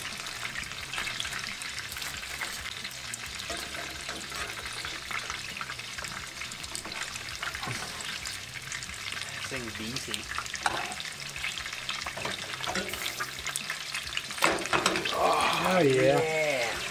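Hot grease sizzles and trickles as it is poured off from a giant pizza burger pan, a steady frying hiss throughout with a louder liquid pour near the end, while people talk briefly over it.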